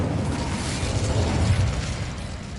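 An Incendio fire spell is cast in Hogwarts Legacy. It makes a loud, steady rushing roar of flame that holds for a few seconds without a break.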